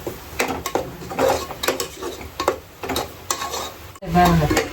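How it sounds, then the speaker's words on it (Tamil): Ingredients are sautéed in oil in a pan for a mutton-style gravy. A spoon scrapes and clinks in repeated close strokes over a soft sizzle, and a louder surge of sizzling comes at the end. "இந்த பச்சை வாசனை கொஞ்சம் போகிற வரைக்கும் நம்ம இதை வதக்கலாம்"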